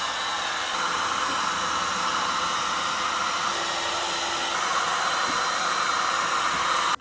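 A heat gun blows a loud, steady stream of hot air onto a caravan door surface. The hiss is even and close and runs unbroken until it cuts off abruptly at the end.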